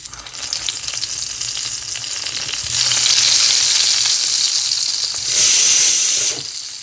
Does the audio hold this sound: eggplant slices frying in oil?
yes